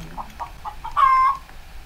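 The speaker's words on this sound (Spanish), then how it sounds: "Parece una gallina de verdad" A Roblox Brookhaven accessory makes chicken sounds in the game: a few short, evenly spaced clucks followed by a longer, louder squawk, clear and close with no talk.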